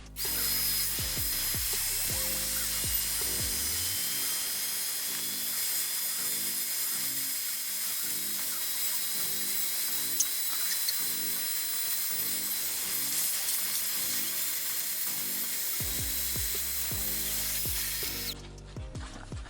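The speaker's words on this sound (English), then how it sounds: "So we need to just trim these edges. So where is my Dremel?" A Dremel rotary tool trims the edges of resin beverage coasters, giving a steady, high-pitched motor whine that holds for most of the stretch and rises and falls slightly as it bites into the edge.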